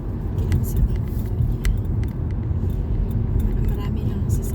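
Heavy traffic rumbles along a busy main road, a dense, continuous low roar of many cars and larger vehicles nearby, with faint higher clicks and hiss over it; a voice talks over the noise.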